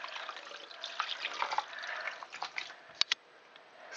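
Dandelion jelly brew is poured off outdoors, making a faint, continuous trickling splash with a few brief drips toward the end.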